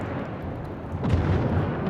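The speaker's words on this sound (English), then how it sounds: "Cruiser destroyed. That was a big explosion." A cruiser blows up in World of Warships, a deep rumbling explosion that swells about halfway through over continuous loud battle noise, with no talking.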